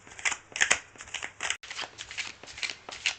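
Rapid crisp riffling and flicking of tarot cards being shuffled, a series of dry papery bursts with brief pauses, close up and fairly quiet.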